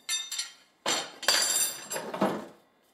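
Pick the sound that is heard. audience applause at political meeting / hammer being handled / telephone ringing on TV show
hammer being handled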